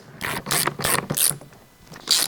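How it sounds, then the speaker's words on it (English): A ratchet fitted with a 13mm socket tightens the bolts on a Donaldson airbox for a 200 Series, giving four bursts of rapid clicking pawl ratchets, close and fairly loud, with a pause before a final burst. "this is where we're going to use our 13mm socket on our ratchet to tighten these bolts up"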